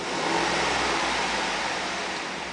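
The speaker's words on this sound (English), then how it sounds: "Let me go ahead and rev the engine." A 2010 Chevrolet Suburban LT engine rises in a steady rev, a dense broadband roar with a low rumble held close and loud for the whole stretch, no voices over it.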